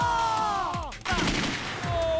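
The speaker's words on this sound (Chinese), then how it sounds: "机枪扫射" Staged machine-gun fire effect on a TV variety show set, with rapid bursts blended into loud, sweeping tonal sounds and a sharp crack midway.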